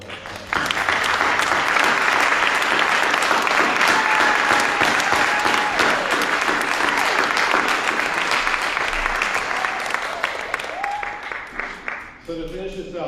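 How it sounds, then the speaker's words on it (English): Audience applause at a 2023 Dr. Martin Luther King Jr. celebration event, a sustained, dense wash of clapping from a large crowd that fades out near the end as a speaker resumes. "let's have a round of applause for that."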